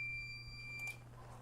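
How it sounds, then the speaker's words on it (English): Electronic meter sounding an alarm right after a relay wired to it is toggled: a steady high-pitched tone with a low hum beneath, holding for about a second before cutting off. "There we have the meter in alarm."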